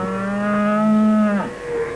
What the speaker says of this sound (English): Oh, it was a cow that went moo, Bungle.